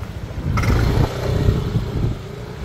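A riverboat engine rumbles and clatters close by at a riverboat station in Bangkok, with a sharp knock early on and a steady low churn throughout.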